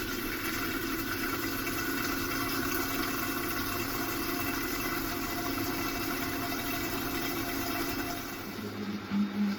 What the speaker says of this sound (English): leave the blender going the entire time